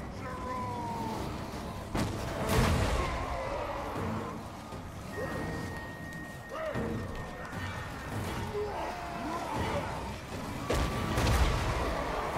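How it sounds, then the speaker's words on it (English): Cannons fire during a battle in Total War: Warhammer, several loud booms landing at irregular intervals amid a busy din of combat noise. "Hear those cannons roar!"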